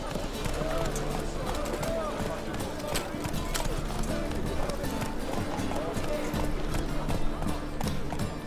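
Hooves of the horse in The Witcher 3 clatter in a steady galloping clip-clop, mixed into busy game sound with voices and background noise throughout.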